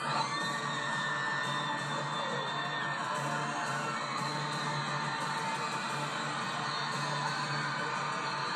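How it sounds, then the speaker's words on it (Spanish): A large crowd cheers and claps continuously, a steady roar of applause and shouts with no break. "recibamos con un fuerte aplauso a nuestros jueces"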